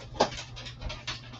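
Dogs panting close by in short, quick breathy bursts, with a brief whimper-like sound near the start and a few more soft huffs afterwards.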